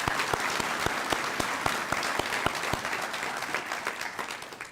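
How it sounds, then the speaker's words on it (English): Audience applause at a college teacher education convocation, a full, sustained round with distinct individual hand claps ringing out rhythmically above the crowd, gradually thinning toward the end. "Let's give her another round of applause."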